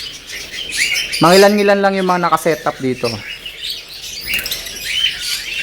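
Birds in a farm aviary holding African lovebirds and canaries chirp and tweet throughout, with a brief louder burst of calls near the middle, while someone speaks over part of it.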